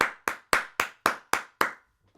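One person claps seven times at a slow, even pace during a live stream, each clap sharp and close, and then the sound stops.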